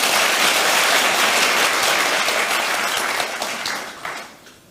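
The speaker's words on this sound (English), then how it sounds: "We just get a round of applause for everyone." Applause from a large audience at the closing keynote of a technology conference, a dense roar of clapping that holds steady, then thins and fades out over the last second or so.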